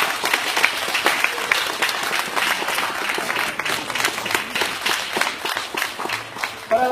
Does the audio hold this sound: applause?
yes